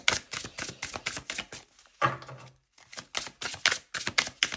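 Tarot cards being shuffled, handled and drawn during a reading, a quick run of crisp, close flicks and snaps with a short pause and a brief soft thud partway, then more rapid card clicks.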